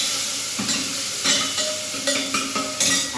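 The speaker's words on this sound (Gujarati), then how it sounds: "આ છે આપણે બાટીની દાળનો વઘાર." Dal tempering (tadka) for dal-bati sizzles in hot oil, with intermittent stirring clatter and steady hissing throughout, and no voices.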